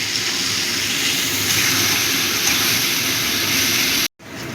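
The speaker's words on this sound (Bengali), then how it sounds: "এবার পেঁয়াজটাকে একটু লাল করে ভেজে নেব।" Chopped onions frying in a pan for mutton kima with jackfruit, a steady, close broadband hiss and crackle with no pause until a brief silence near the end.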